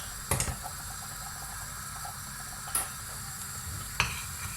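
Rice pudding (sütlaç) boils in a pot on the stove, its foamy surface about to rise over, giving a steady, soft bubbling simmer broken by a few brief clinks or taps.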